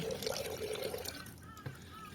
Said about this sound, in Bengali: এবার সেদ্ধ হয়ে যাওয়া মোচাটাকে আমি ঠান্ডা জলে খুব ভালো করে